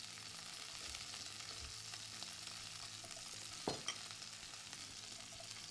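Sausages and rough-chopped onions sizzle quietly in a pan, a soft steady frying hiss with a brief clank of a utensil partway through, no voices.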